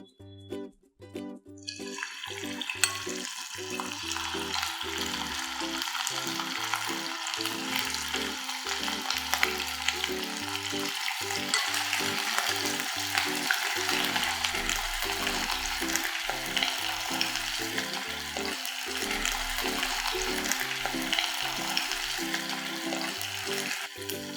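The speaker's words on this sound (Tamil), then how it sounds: "இப்போ ப்ரான் எடுத்து ஒன்று ஒன்றா பொரித்து எடுத்துக்கலாம்." Tiger prawns deep-fry in hot oil for a prawn Manchurian, giving a dense, steady bubbling sizzle that swells after the first moments and holds close and constant, with no talking.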